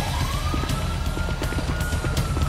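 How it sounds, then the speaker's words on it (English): Police sirens in the video game Grand Theft Auto V, a steady wailing tone rising and holding over a dense, constant bed of game noise, with sharp percussive hits scattered through. "You hear those sirens?"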